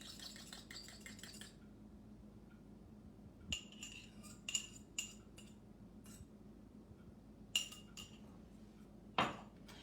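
A single egg cracked into a bowl and beaten with a utensil, producing a few sharp clinks of metal against dish scattered among quiet stretches, with a louder clatter near the end and no talking.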